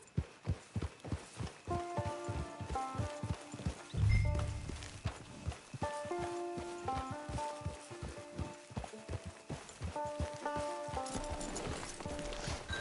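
Horse hooves clip-clop steadily in an open-world video game near a camp and hitching post, a brisk regular walking rhythm throughout with a whinny partway through, up close over background game music.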